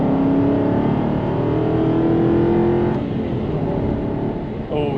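An Aston Martin V8 Vantage with high-flow catalytic converters and a full muffler delete pulls hard with a loud, close engine roar, its pitch climbing and then dropping near the middle as the gear changes from third to fourth.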